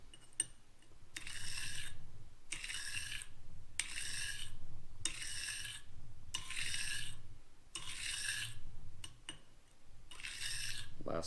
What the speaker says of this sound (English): nice even strokes starting at 300